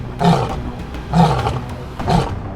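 A lion roars three times in a steady rhythm, each one a deep, loud, close groan. No other sound intrudes.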